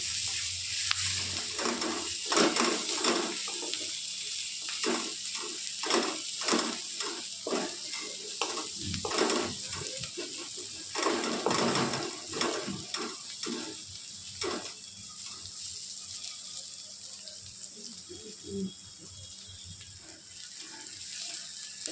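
Spices sizzle and fry steadily in a pan for desi chicken, with repeated stirring scrapes and clinks running through the whole stretch at close range, no voices.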